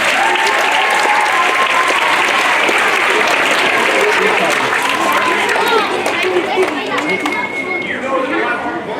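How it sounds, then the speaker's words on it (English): Loud, sustained applause from a crowd of students and staff at an elementary school assembly, steady clapping filling the room throughout and tapering slightly near the end, with some chatter mixed in. "Applause, please, for Ahmed."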